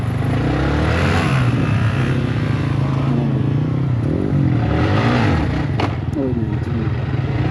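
A Yamaha MT15 motorcycle fitted with an Akrapovic exhaust runs nearby with a loud, continuous throaty rumble that swells and rises as it revs, with voices in the background.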